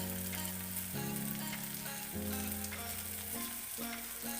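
Tamarind juice goes into a hot, sizzling pan of chamadumpa (taro root) pulusu, giving a steady, loud broadband hiss that runs the whole time beneath tonal background music.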